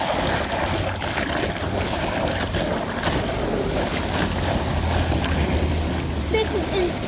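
Flood water rushing into a clogged street catch basin during flooding in BC, a loud, steady roar of churning water mixed with wind buffeting the microphone.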